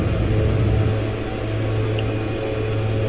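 A simulated de Havilland Twin Otter turboprop lifts off in X-Plane 11, with a steady, loud propeller and engine drone. A low hum and a thin high whine hold throughout, with no talk.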